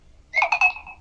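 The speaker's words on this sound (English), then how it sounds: "that's my phone dying" A mobile phone gives its low battery alert, a short electronic chime of two or three quick bright tones, close and clear in an otherwise quiet room.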